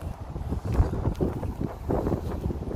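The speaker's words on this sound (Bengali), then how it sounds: "হাওয়া আছে বাবা অনেক হাওয়া" Strong wind blows through an open park and buffets the microphone with a continuous low, gusty rumble that rises and falls for the whole stretch.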